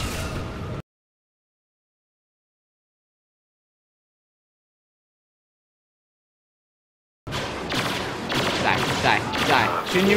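Rapid blaster gunfire in a Star Wars Battlefront multiplayer match, dense bursts of shots at the start and again toward the end, separated by a long stretch of total silence.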